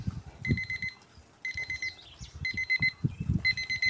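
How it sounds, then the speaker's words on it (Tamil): A beeping ORPAT alarm clock rings in repeated bursts of rapid electronic tones, fairly close, with soft thumping handling noises underneath. "இந்த அலாரம் கிளாக் வந்து நல்லா சவுண்ட் வருது"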